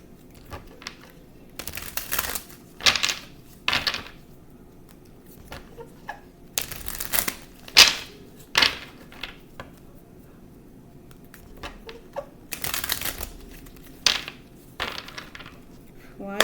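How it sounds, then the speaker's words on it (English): Several short bursts of riffling and snapping cards, a few seconds apart, with quiet pauses between them. "I'm going to shuffle the cards."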